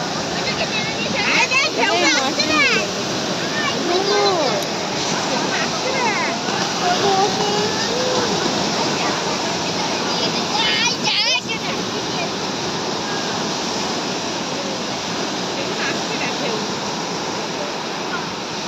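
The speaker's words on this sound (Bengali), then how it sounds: "বড় বড় ঢেউ আছে।" Tidal bore waves roll on the Bhagirathi Ganga at Uluberia, a loud, continuous rushing wash of water that fills the whole stretch, while people talk and call out over it.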